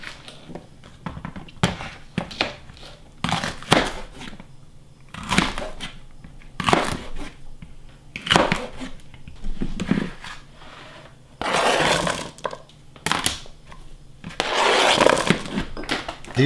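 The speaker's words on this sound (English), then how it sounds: "So we're gonna give these a chop, we're gonna de-stem them" Knife chopping de-stemmed banana peppers into half-inch slices on a cutting board, a series of sharp irregular chops and taps with short pauses between bursts, close and fairly loud.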